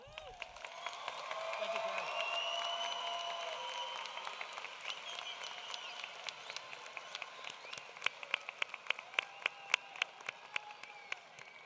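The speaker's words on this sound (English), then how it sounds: "Please give him a round of applause." Audience applause fills a high school graduation ceremony hall, swelling early and fading into scattered claps with a few cheers and voices under it.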